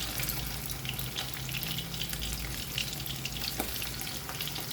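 Prawns dropped by hand into hot oil over a medium flame sizzle and crackle steadily, a continuous close frying hiss with small pops and no talking.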